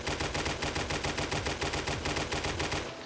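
Rapid automatic gunfire from a weapon in 7 Days to Die with a COD Zombies Deadshot perk mod, a steady loud burst of evenly spaced shots running the whole time with no talking.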